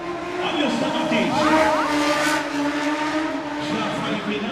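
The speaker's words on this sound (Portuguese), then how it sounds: "Já vai empinando em alta velocidade com a CB1000R" A Honda CB1000R motorcycle wheelies at high speed during a Superbike event at Interlagos, its engine whining and sweeping in pitch as it passes, loud and close, with a commentator talking over it.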